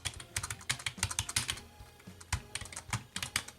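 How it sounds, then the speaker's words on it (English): Keys of a KORG nanoKEY2 MIDI keyboard clack rapidly and unevenly in quick bursts, close by, with a crisp mechanical clatter like a mechanical computer keyboard being typed on. "The sound the keys emit is similar to a mechanical keyboard."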